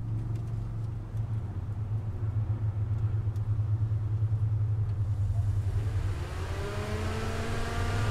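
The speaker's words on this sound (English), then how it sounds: "So the fan's turning on, and so that means we don't have a problem with our fan." A car's radiator cooling fan runs with a steady low whir and hum near the engine bay, a constant drone throughout, its pitch and character shifting partway through as the fan noise rises.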